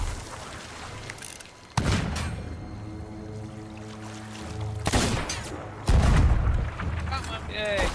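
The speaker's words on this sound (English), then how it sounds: "are you shooting cannons?" Several heavy booming blasts from Sea of Thieves ship cannons fired at the water near Skull Island, spaced a few seconds apart, with an electronic droning tone and game sounds in between.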